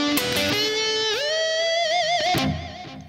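Electric guitar playing the Moscow country lick: a single sustained line with bends, slides and wide vibrato, bright, loud and up close.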